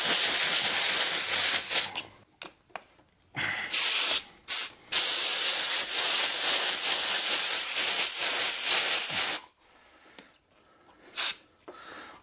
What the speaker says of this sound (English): we're just going to use the old air compressor trick to put these on.